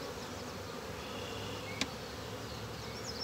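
Honey bees buzz steadily around an open hive during an inspection, a dense continuous drone with a single sharp click partway through.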